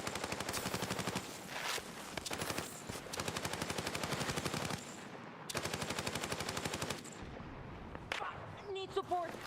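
Rapid automatic gunfire in Battlefield 6, long sustained bursts of machine-gun fire broken by brief pauses, loud and close, with scattered single shots and game effects near the end.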